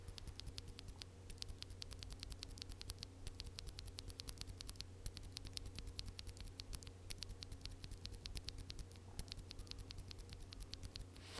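Lubed NovelKeys Cream linear mechanical keyboard switches being typed on, a steady run of soft, muted clacks in a fast, even patter, close and quiet with no talking.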